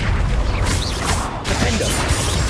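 Confringo spell blasts in the Hogwarts Legacy video game: loud crashing bursts and booms crowd a dense, continuous stretch of combat noise, with a short dip in the middle before the impacts resume.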